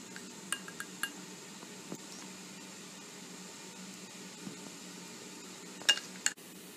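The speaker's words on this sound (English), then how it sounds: "I have placed the mold in the pan" An idli mold clinks against a pan as it is set down: a few light metallic taps early on, a quiet hum in between, then a louder pair of clinks near the end.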